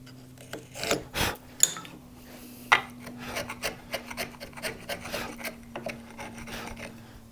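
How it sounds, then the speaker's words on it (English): A chisel or marking knife cleans up the corners of a wooden cross halving joint, giving close, rhythmic scraping and rasping strokes with a few sharper knocks, alone against a faint steady hum. "if you want to clean up the corners, you can do that with a chisel, or you can just get a marking knife along there."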